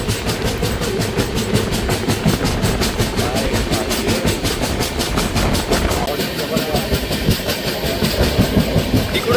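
A slow train runs through a foggy mountain ghat with steady rhythmic clickety-clack and rumble, loud and close throughout, with faint background voices mixed in.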